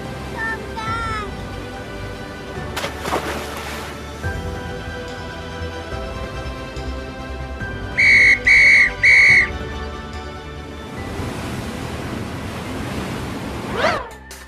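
Three sharp, shrill whistle blasts in quick succession, heard over rushing wind and crashing surf, with voices and music around them.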